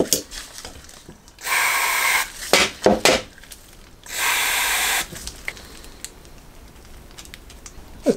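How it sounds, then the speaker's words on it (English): Carb cleaner sprays in two sustained hissing bursts through the orifices of a Honda CB750 carburetor, with clinks and brief sprays between them, close and loud. "Before I shove them back in, I will put a little bit of carb cleaner through those orifices."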